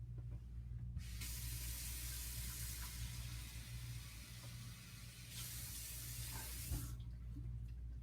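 Running tap water fills a measuring cup with a steady hiss for making homemade play dough, stopping briefly near the start and near the end.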